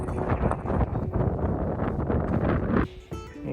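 Wind buffeting the microphone on a New Zealand hiking trail, heavy rumbling gusts that drop away near the end, leaving faint rustling.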